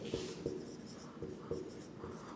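Chalk taps and scratches against a classroom board as a teacher writes chemistry symbols, a few quick strokes in a loose rhythm, close and fairly quiet with no talk.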